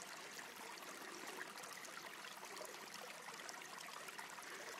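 Spring water running through poly lines into a spring box, a soft continuous trickling wash, faint and even throughout with no voices.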